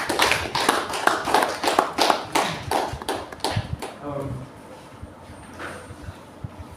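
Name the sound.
audience applause at a ceremony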